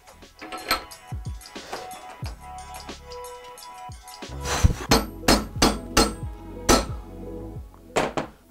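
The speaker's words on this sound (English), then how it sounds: "I can straighten it back out to the correct level by smacking it on the little anvil section here" A hammer strikes a steel blade on a small anvil section, first in a few scattered taps, then in a quicker series of about eight sharp metallic blows, loud and close with ringing overtones.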